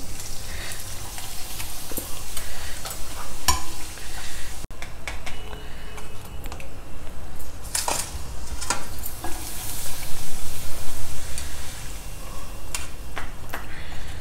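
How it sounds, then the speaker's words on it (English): Appalams fry in hot oil with a steady, crackling sizzle, punctuated by light clicks and stirring scrapes, close and fairly loud throughout with no talking. "Also some appalams we can fry."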